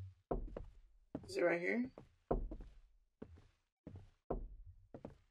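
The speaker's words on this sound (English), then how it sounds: "Wait, what is that knocking sound?" Knocking on a window in a video game comes as several separate groups of sharp, hollow raps, close and clear, with a brief voice speaking between them.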